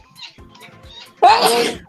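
A single sharp, loud sneeze bursts out near the end, after a moment of quiet breathing and faint voice sounds.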